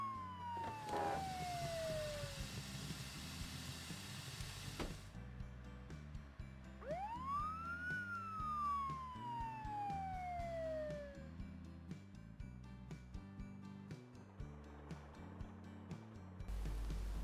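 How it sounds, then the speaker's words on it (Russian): A cartoon police car siren in a children's animation, with long rising and falling wails over a bouncy musical backing, fairly loud and close, with no talking. "Все машину эту знают, полицейской называют."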